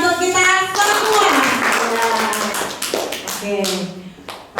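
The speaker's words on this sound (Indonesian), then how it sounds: "Berikan tepuk tangan yang meriah untuk kita semua." An audience at a CPG 2024 dissemination gathering bursts into applause, with dense clapping throughout and a voice talking over it close by.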